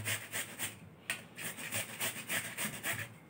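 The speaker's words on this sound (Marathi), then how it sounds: "आता किसून घेऊया। कोणत्याही किसणीवरती तुम्ही किसून घेतली तरी चालेल।" Cucumber is grated on a hand grater in a home kitchen, giving a quick, rhythmic series of about a dozen faint, scratchy rasping strokes, close by and without talk.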